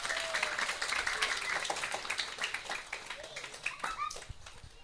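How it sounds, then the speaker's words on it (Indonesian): A crowd applauds community leaders at a Maulid Nabi gathering in Bali, a fairly faint, scattered clapping that gradually thins out over several seconds, with a few voices underneath. "Tepuk tangannya untuk para tokoh kita."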